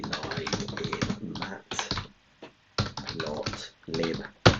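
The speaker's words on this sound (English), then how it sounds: "I'm actually typing this into Google Bard" Typing on a computer keyboard, a close, steady rattle of keystrokes in bursts separated by short pauses.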